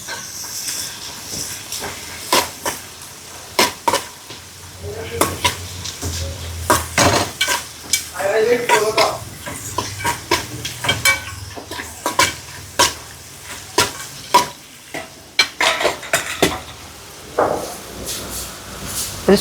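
Cashews and raisins fry in ghee under a continuous hiss, while a spoon scrapes and clicks against the pan in frequent, uneven bursts throughout.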